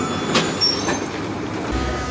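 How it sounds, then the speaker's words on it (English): A Melbourne tram rolling toward St. Kilda: a steady rumbling rail ride with brief squealing and clattering from the wheels, heard close from on board. "jump on the tram, shall we?"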